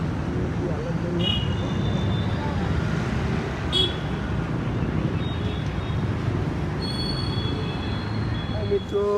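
Steady, loud road traffic in Mehsana near a railway station, a continuous rumble of engines with a few faint horn beeps and squeals mixed in.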